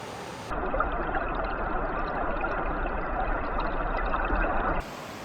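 Steady broadband rush of a river flowing beside a side trail off the Old Sugarlands Trail in the Great Smoky Mountains, close and continuous for several seconds with no voices.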